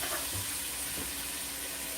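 Water runs steadily from a faucet on a ranch, a close continuous hiss with no voices over it.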